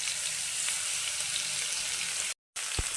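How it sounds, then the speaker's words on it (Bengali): Garlic, coconut, whole coriander seeds, curry leaves and dried chillies sizzle in a hot pan for a South Indian ridge gourd chutney, a steady close hiss with a brief gap near the end. "এবার এগুলোকে আমি একটু ভেজে নেবো, একটু ভালো করে ভেজে নেবো এগুলোকে এখন আমি।"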